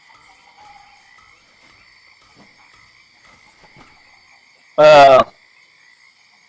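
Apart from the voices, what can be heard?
frogs croaking in a swamp ambience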